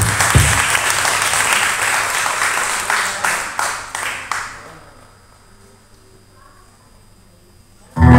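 Congregation applause fills a church anniversary service, loud and steady for about four seconds, then fading in a few scattered claps to quiet before a sudden loud burst at the very end.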